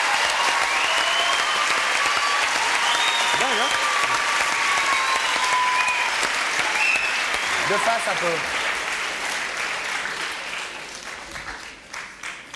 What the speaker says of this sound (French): On peut l'applaudir, le chien?